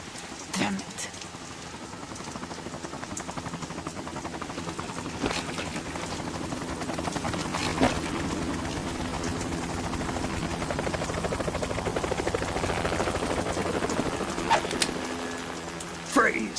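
Helicopter rotor thumping steadily through a video game cutscene on a PlayStation 2 title running in emulation, a continuous droning chop beneath dialogue that comes and goes in the foreground, with occasional sharper hits.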